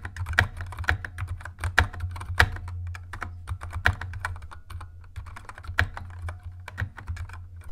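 Typing on a Keychron K3 keyboard with red switches gives a close, quick patter of soft clacks at an uneven rhythm, each keypress sharp and light with no talking.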